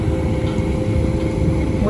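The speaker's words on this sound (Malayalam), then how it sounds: "അതാ നമ്മളെ പിക്ക് ചെയ്താ ബോട്ട് ഇതാ പോണം" A boat pulls away after dropping off its passengers, a steady low engine rumble running throughout, close by and under continuous chatter.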